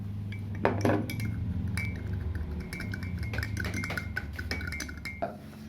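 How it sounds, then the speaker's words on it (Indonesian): A spoon clinks and scrapes against a glass while salt is stirred into water, a steady run of light metallic taps and rattles close up with no talking. "Lalu aduk hingga rata, hingga tercampur semua."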